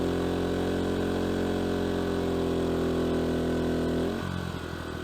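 An A-iPower SUA2000i inverter generator running at full load, giving a loud, steady engine drone with a constant tone that drops and roughens near the end.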